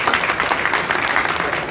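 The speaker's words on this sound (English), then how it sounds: "Can we give them a big round of applause," A short burst of lively crowd applause at a Hindu temple festival gathering in Melbourne, dense clapping from many hands, fairly loud and close, with no talking over it.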